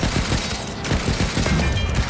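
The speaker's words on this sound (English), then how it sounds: "Like got spooked by the gunfire" Rapid bursts of gunfire in the video game Stranded: Alien Dawn, a dense rattling fusillade of shots that continues without pause for about two seconds.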